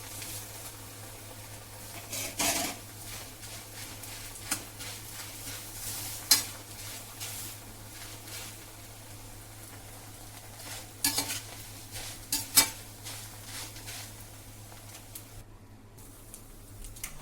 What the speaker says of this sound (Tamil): இப்போ அவளையும் நல்லா பொரிச்சு எடுத்துடலாம்